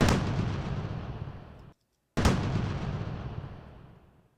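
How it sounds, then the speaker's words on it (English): Two sampled machine gun shot sound effects, each a sharp heavy blast with a long decaying boom, separated by a brief silence, loud and close with no talking. "So in my shorter machine gun shot"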